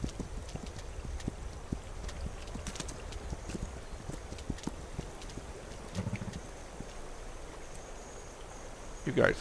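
Horse hooves clip-clopping in the historical strategy game This Land Is My Land, a soft irregular patter of steps under faint insect chirps, ending with a brief louder sound.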